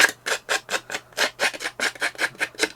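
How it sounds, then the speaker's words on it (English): Edges of lace card paper are roughened with about a dozen quick, evenly spaced scraping strokes, crisp, close and clearly separated by brief gaps. "We are going to roughen up these edges."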